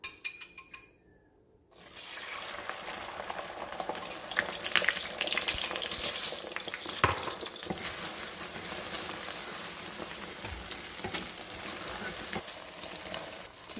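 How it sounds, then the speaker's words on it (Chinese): Eggs hit hot oil in a wok after a short near-silent pause, erupting into loud, close sizzling and crackling that continues steadily, with stirring scrapes and bubbling throughout. "油热了，我们炒鸡蛋。"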